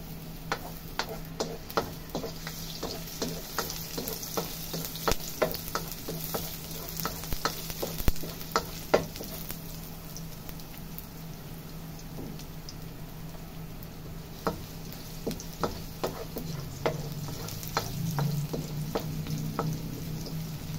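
Garlic sizzles in a pan for Bicol Express, with a steady frying hiss under sharp, irregular spatula taps and scrapes that thicken toward the end; close and moderately loud, no talking.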